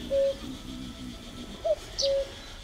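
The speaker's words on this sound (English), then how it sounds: "that bird is getting annoying." Looping woodland bird song in the Night of the Rabbit adventure game: short clear whistled notes and a brief high chirp, repeating against a soft ambient background.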